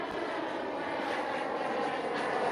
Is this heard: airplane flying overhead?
yes